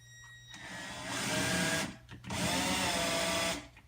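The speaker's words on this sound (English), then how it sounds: "My drill doesn't want to work when it's so cold out here." A cordless drill bores into a Kydex knife sheath outdoors in the cold, its loud whirring motor running in two long bursts with a brief pause between, over a steady low background hum.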